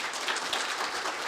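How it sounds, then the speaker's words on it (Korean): A conference hall audience at a Korean financial policy conference claps steadily, a moderate, even wash of applause with no voices over it. "다시 한번 큰 박수 부탁드리겠습니다"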